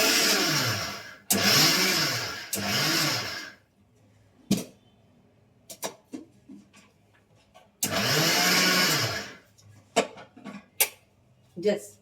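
A mixer grinder pulses sesame seeds for a pickle powder in short loud whirring bursts that rise and fall. Quiet gaps between the bursts hold clinks and light handling noises.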